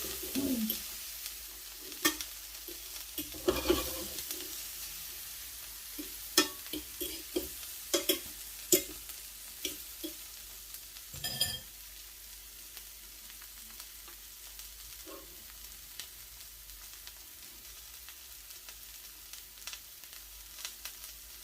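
Salmon fries in a pan on medium heat with a soft, steady sizzle. Scattered sharper pops and crackles and a few louder bursts of spitting oil come through, with no talk.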